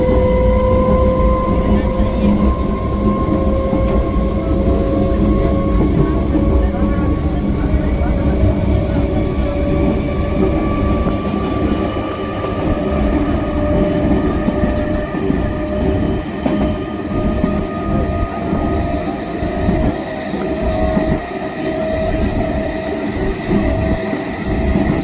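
A local train runs toward Canning, its wheels rumbling and clattering steadily on the rails for the whole stretch, with a loud, continuous drone and rising tonal whine.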